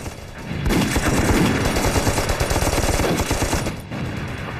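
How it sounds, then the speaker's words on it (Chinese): Rapid gunfire from machine guns in a wartime battle scene, a dense run of sharp bursts and repeated shots that starts suddenly and holds loud throughout, with no talking. "紧接着他们开枪"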